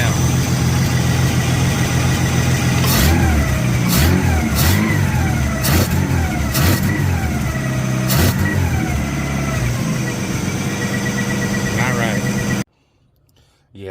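A carbureted big block Chevy of about 490 cubic inches idles high with a steady loud rumble, punctuated by several sharp revs that rise and fall; voices talk over it before it cuts off near the end.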